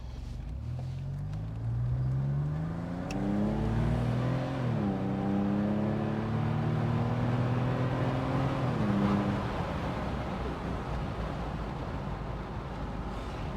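A Maserati Biturbo Spyder automatic accelerates along a road, its engine note climbing steadily through two gear changes. The engine sounds moderately close, and road and wind noise build beneath it as speed rises.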